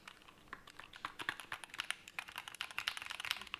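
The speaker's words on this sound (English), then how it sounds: "That doesn't sound that great, but it's a very cool keyboard." Keys clatter on a custom-built computer keyboard in a quick, uneven typing run, clicks close and fairly quiet, no talking.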